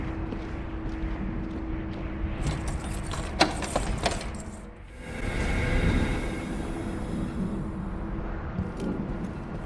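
Keys jangle in the video game Dishonored 2, a bright metallic rattle of a few seconds over a low rumbling ambience, followed by a louder whooshing swell.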